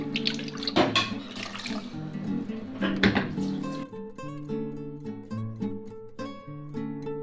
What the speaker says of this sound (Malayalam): വെള്ളം ഒഴിച്ചു കൊടുക്കുന്നു കേട്ടോ മക്കളെ